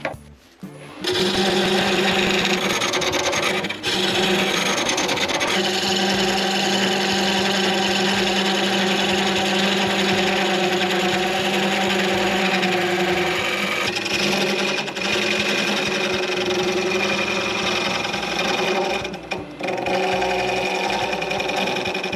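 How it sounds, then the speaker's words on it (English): Hollowing tools cut into a spinning wooden vase on a lathe, giving a loud, continuous scraping whir with a steady motor hum that runs nearly unbroken, dipping briefly a few times as the cut eases. "I'm going to use my hollowing tools and get that to be the good dimension."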